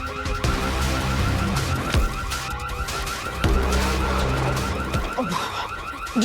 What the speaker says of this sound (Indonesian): Suara alarm.